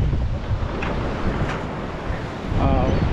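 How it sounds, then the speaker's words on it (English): Strong wind buffets the microphone on the La Jolla coast, a loud continuous low rumble with gusts, mixed with surf and water noise throughout. "The day is super, super windy"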